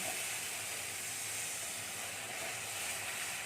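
Water poured into spice masala in a hot pan for paneer bhapa gives a steady, even hiss of steam and sizzle, fairly soft and continuous throughout, with no voices.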